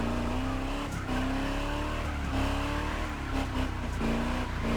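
Video game car engine from The Crew Motorfest, a widebody Chevelle, droning steadily with slow gear changes breaking the pitch every second or so, tires squealing at times, loud and continuous.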